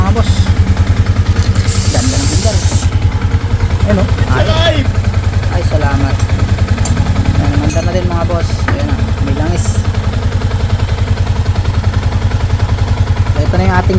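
Yamaha Sniper 150 motorcycle engine, just started after failing to run and low on oil, idling with a steady rapid putter throughout, close and loud, with people talking over it.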